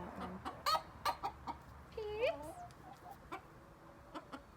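Chickens, including white Silkies, cluck in short bursts on a farm, with one rising squawk partway through, moderately close over quiet background.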